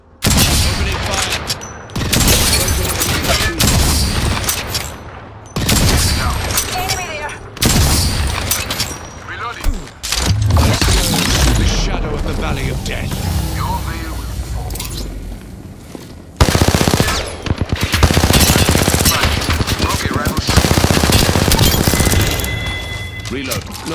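Rapid bursts of gunfire from an Apex Legends match, loud and close, with dense fusillades broken by brief pauses and mechanical clatter, while in-game voice lines speak intermittently underneath.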